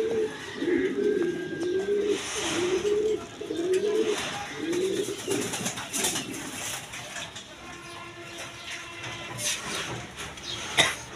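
Pigeons of fancy breeds kept for sale coo in a loft, a steady rolling series of low, throaty coos repeating through the whole stretch, fairly close, with faint background bird chirps.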